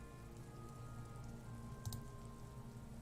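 Light drizzle falls outside in the video game Disco Elysium, a steady, soft hiss of fine rain with a faint patter, even and continuous throughout, no voices.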